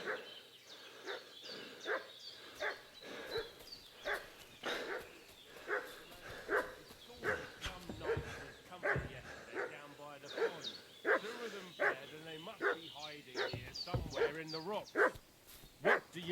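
A dog in the video game Kingdom Come Deliverance 2 barks repeatedly in sharp bursts, with whimpers and yips mixed in, making a fuss close by while people talk over it.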